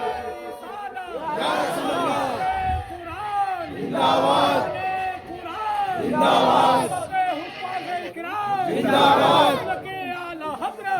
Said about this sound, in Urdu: جواب دے, نعرے کا جواب دے.